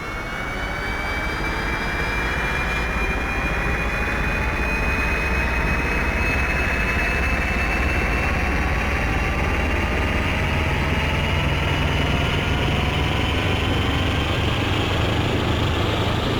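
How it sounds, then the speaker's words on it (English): Turboprop engines of a Carenado 690B Turbo Commander in X-Plane 11 spool up into a loud, steady whine and roar, with rising tones sweeping upward as the engines accelerate, no voices. "starting the engines with the sounds is one of my favourite things of the 690B"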